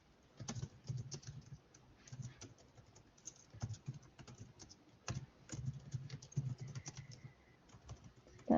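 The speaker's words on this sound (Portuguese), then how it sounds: "Tá digitando." Clicking keys on a computer keyboard during an online class, irregular bursts of typing with short pauses, fairly faint and close, no talk.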